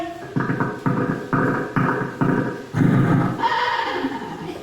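A voice imitates an animal call, apparently a horse, in a series of about five short, loud bursts followed by a longer drawn-out whinny-like cry, close up with no other talk.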